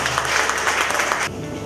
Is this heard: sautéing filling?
no